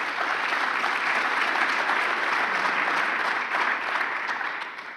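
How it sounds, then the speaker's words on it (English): An audience at a Chamber of Commerce breakfast event applauds the sponsors. A dense, steady wash of clapping fills the room at even loudness and fades slightly at the end, with no voices over it. "Please, a round of applause for our generous sponsors and partners."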